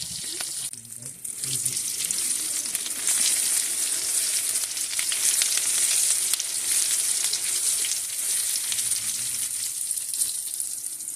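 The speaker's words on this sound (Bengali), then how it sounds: "এবার আমি বেগুনগুলো ভাজার জন্য দিয়ে দিয়েছি" Sliced eggplant frying in hot oil in a home kitchen pan, a steady bright sizzle close by that swells after a brief quieter start and holds throughout, with a faint voice early on.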